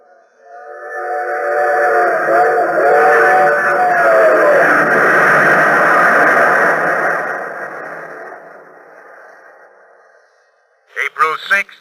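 A steam train in an old radio drama, with a loud, sustained rumble and wavering whistle tones that swell over several seconds and then fade, followed by a brief burst of talk at the end.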